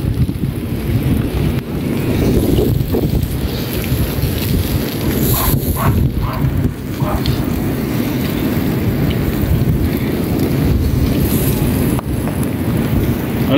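Strong, steady wind roars and buffets across the microphone without pause at Benone Beach, Northern Ireland, rumbling low the whole time.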